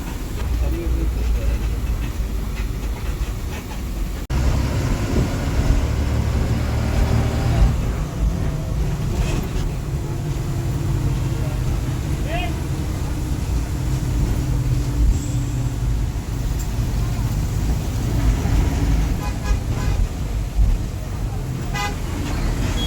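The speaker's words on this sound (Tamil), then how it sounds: "11:20 வண்டி டிபார்ட் ஆகிட்டுருக்கு மதுரை மாவட்டத்திலேருந்து டுவர்ட்ஸ் நாகர்கோவில்" A TNSTC bus pulls away at night from Madurai toward Nagercoil, its engine droning steadily with road rumble, horn toots sounding nearby and a voice talking over the noise.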